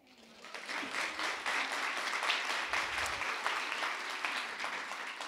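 Audience applause at a Cannes conference on games and cognitive functions, honoring a new doctor of cognitive psychology; steady, dense clapping from a room, rising quickly and sustained throughout without voices.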